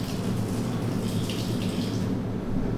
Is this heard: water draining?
yes